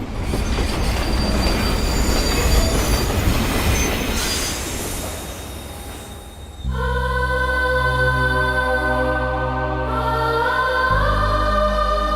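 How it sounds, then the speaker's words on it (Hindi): A train rolls into a station with a loud rushing clatter, then squealing wheels and brakes ring in sustained metallic tones as it slows, close and dominant, with no voices. "इस ट्रेन को भी इसी वक्त आना था"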